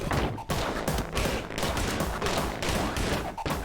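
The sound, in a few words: gunfire from a video game demo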